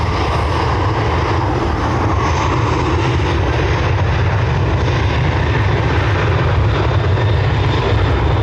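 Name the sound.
Ryanair Boeing 737-800 taking off from Dublin to Bologna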